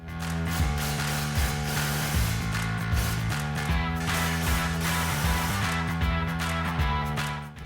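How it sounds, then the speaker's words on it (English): A ratchet tightens the exhaust clamps on a 2016-2020 Ford Focus RS cat-back system, with rapid repeated clicking strokes and steady mechanical whirring running close and loud throughout. "Now we'll go back through and tighten down the clamps and make some adjustments."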